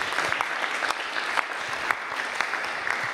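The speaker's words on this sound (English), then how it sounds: "give him a round of applause." Conference audience applauds after a technical talk on memory management, a dense, steady patter of many hands clapping with a few sharper individual claps standing out.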